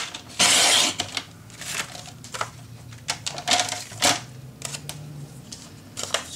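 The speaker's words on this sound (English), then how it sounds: "And then I cut." Paper being cut with scissors for a Halloween scrapbook mini album: a handful of sharp, crisp snips and rustles come close and fairly loud, separated by short quiet pauses.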